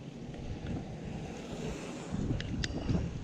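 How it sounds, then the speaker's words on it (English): Strong wind buffets the microphone with a loud, rough rumble that gusts harder toward the end, with faint water or surf beneath it, on the Cannon Valley Trail in cold weather. "that wind is just blowing right at me"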